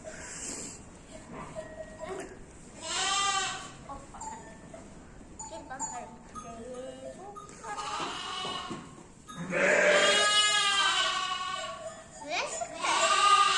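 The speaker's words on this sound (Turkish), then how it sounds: "Bu kuzular neden bağırıyor bu kadar?" Several lambs bleat in repeated wavering cries in a village, some near and loud, with people talking quietly in Turkish in between.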